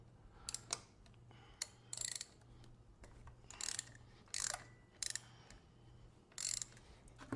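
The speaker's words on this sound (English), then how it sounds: "let me grab my bucket and my 8mm 3/8 drive Allen socket, and we'll loosen this up" A 3/8-inch-drive ratchet fitted with an 8mm Allen socket loosens a plug on an MV Agusta F3 800 motorcycle during a coolant flush, giving short bursts of metallic clicking separated by pauses, fairly faint, with no talking.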